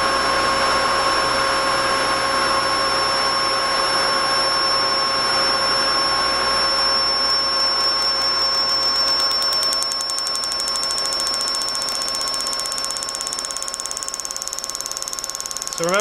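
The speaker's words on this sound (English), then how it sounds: "this is a 24 volt rated series wound DC motor. I've only have 12 volts on it, that's why it's going at a reasonably low speed." A 24 volt series wound DC motor running on only 12 volts at reduced speed, giving a steady, loud whirring hum with a constant high whine that holds unchanged throughout, with no talk.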